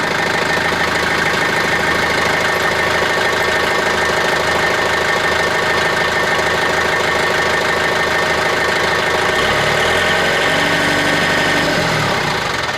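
The diesel engine of a John Deere 110 tractor loader backhoe runs loud and close with a steady knocking idle rhythm, and its tone shifts near the end as the engine speed changes.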